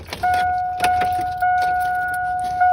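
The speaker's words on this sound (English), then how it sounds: "I'm gonna turn my key on my truck." Key turned in the ignition of a 1999 Chevy Silverado truck, bringing up a steady two-tone door chime with soft clicks and key jingles, close and fairly loud, no talking.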